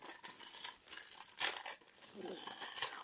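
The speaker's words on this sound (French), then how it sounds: "on va s'ouvrir cette magnifique petite carte promo" Plastic wrapper on a Pokémon promo card being torn open, a steady crinkling and rustling of thin plastic held close, with a few brief sharper tears.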